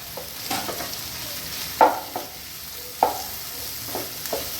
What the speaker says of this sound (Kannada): ಈಗ ಉಳ್ಳಾಗಡ್ಡಿ ಅರ್ಧ ಫ್ರೈ ಆಗ್ಯಾವು